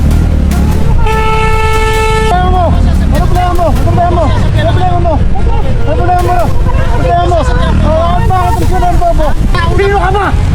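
An SUV's loud horn blares in one long sustained honk, followed by agitated shouting voices close by over traffic noise.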